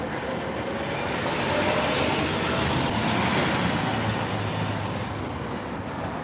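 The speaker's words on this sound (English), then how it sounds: "Whoa, big bus coming." Heavy city bus rolling past on F Street near 13th Street in Washington, a broad, steady roar that swells close by midway and lingers with surrounding traffic noise, no talk over it.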